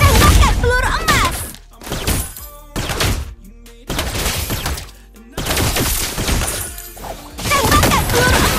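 Rapid bursts of golden-bullet gunfire from a Mobile Legends sheriff hero's skill, loud clustered shots and crashes in several volleys separated by short gaps, mixed with game effects and a brief character voice line.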